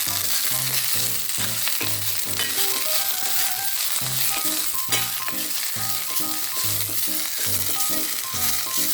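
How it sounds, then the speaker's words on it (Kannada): Drumstick leaves and onion sautéing in oil in a pan give a steady, close sizzle that runs the whole time, with rhythmic background music underneath and no talking. "ಇದು ನುಗ್ಗೆ ಸೊಪ್ಪು ಹಾಕ್ತಾ ಇದ್ದೀನಿ ಅದಕ್ಕೆ ಹಾಕ್ಬಿಟ್ಟಿದ್ದೀನಿ ತಾಳಿಸ್ತಾ ಇದ್ದೀನಿ"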